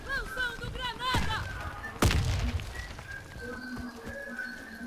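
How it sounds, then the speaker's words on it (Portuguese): A grenade thrown and exploding in the shooter game Warface: a sharp, loud burst around the two-second mark with a thudding low tail, amid chirpy game ambience and background sounds. "Lançando granada!"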